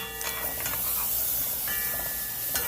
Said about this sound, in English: We have 2 tablespoons of butter in the pot. And we're just going to kind of saute this a little bit